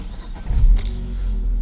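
A 2008 Opel Astra H with a 1.8 petrol engine turns over and fires up close by, a short low cranking burst settling into a steady idle rumble, heard alone.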